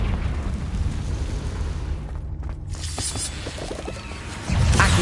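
Confringo blasting-spell explosion in Hogwarts Legacy, a sustained rumbling blast with crackling debris, ending in a louder deep boom.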